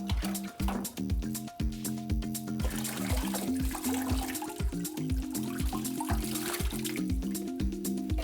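Pre-wet slurry of colloidal silica and distilled water is poured over a wax form for a ceramic shell, trickling and dripping steadily under a rhythmic backing track.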